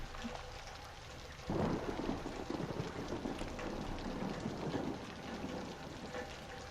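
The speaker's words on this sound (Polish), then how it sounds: "Zeus, jeszcze raz bym prosił o burzę." A thunderstorm in the horror game Outlast: steady rain patter, then a sudden rumbling thunder swell that rolls on under the downpour, fairly faint overall with no voices.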